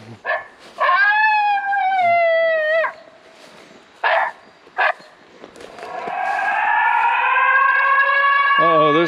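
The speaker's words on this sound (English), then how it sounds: "That's a police-style siren." A police-style siren plays from a Foxpro Patriot electronic game call. Loud, wailing tones rise, hold and fall, broken by a few short yelping bursts, then settle into a long sustained wail.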